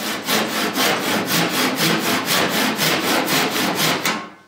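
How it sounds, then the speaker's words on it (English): Japanese hand saw cutting through wood while building a proa: loud, close, steady rhythmic rasping strokes, about three per second, continuing evenly before stopping at the end. "I clamp it closed and I take a saw"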